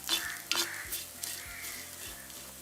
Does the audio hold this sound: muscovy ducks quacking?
no